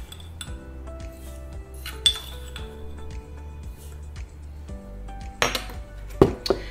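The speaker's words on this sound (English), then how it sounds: "Give it a little stir, mix it up" A spoon stirring about three tablespoons of salt into pickle brine in a pot, with regular metallic clinks and scrapes against the pot, close and fairly loud, ending in a few sharper knocks.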